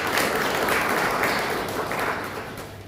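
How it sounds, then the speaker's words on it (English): A crowd at a youth debate claps steadily in a full, continuous round of applause that tapers slightly toward the end. "A round of applause for Chomba"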